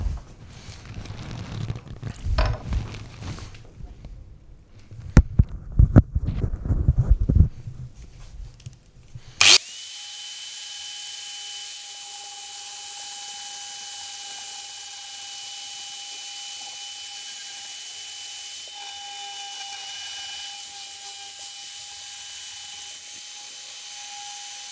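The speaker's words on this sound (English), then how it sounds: "And then we can go back to our sanding." Rough, irregular scraping and rubbing of abrasive on a carved wooden kuksa cup, in bursts, followed by a long steady high-pitched whine of a power tool running.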